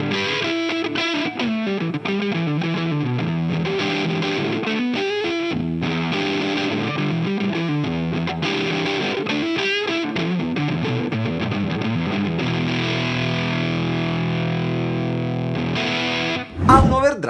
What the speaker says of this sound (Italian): Partendo da sinistra passiamo da un fuzz classico un po' wattato,